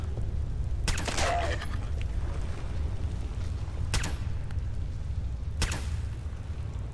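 In Fallout 4's Far Harbor, a player fires at feral ghouls: three sharp, loud gunshots spaced a few seconds apart crack over a low, steady rumble.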